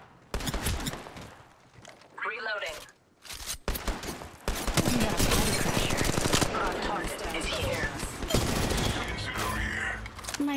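Gunfire in the mobile battle royale game Apex Legends Mobile, with rapid automatic bursts and a steady stream of shots, loud and close, mixed with game voice callouts and other effects.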